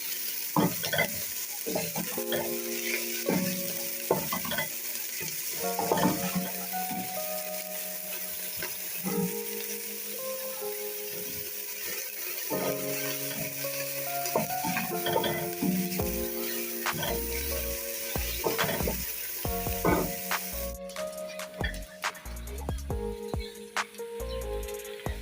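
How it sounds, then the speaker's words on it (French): Finely chopped onions, blanched, sizzle steadily in a pan for fresh sea bass with crème fraîche, with intermittent stirring clatter and some running water, close and continuous, no talk. "Nos oignons finement hachés. Ils sont blanchis quelques minutes."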